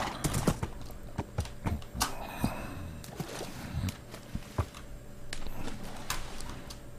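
A horse's hooves clip-clop in Minecraft, sharp irregular knocks in quick uneven bursts, close and clear over a faint steady hum, with a brief whinny-like snort and no talking.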